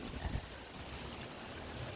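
Steady wind rushing and buffeting outdoors, with low rumbling gusts pressing on the microphone throughout.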